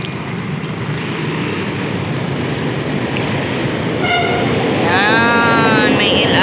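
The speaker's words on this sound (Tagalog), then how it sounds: "Yan, may LRT sa taas." An overhead LRT light rail train rumbles past along an elevated track outside a house, a steady loud roar with a brief high horn-like whine near the end; a voice is faintly present.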